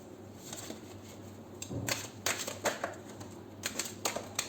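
Tarot cards handled and drawn into a pile for a reading: a run of soft, crisp slaps and shuffling flicks, close and moderately loud, in irregular bursts with no talking.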